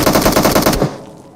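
Automatic gunfire in the BGMI mobile battle royale game: a loud, rapid burst of evenly spaced shots that stops abruptly, leaving a short fading tail.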